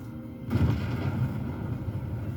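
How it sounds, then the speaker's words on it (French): A grenade explosion in the video game Sniper Elite Resistance, a sudden deep boom that rumbles on for about two seconds, loud and alone without speech. "Attends, on va lancer une grenade."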